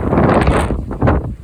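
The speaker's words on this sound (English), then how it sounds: "I know it's breezy, you guys, it's windy" Loud, rumbling gusts of wind buffeting the microphone, a heavy continuous roar that briefly dips and surges again.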